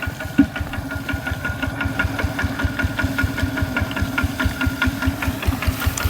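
A vehicle engine runs steadily while hauling harvested rice in the countryside, its rhythmic knocking chug continuing close and loud for the whole stretch with no talk over it.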